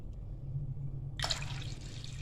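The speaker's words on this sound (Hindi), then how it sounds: "इसमें मैंने तकरीबन 5 गिलास पानी डाला और ये ऊपर तक तकरीबन भर गई है" Water pours into a pot of soaking chickpeas with baking soda, a soft splashing rush that starts abruptly midway and continues steadily over a low background hum, with no talking.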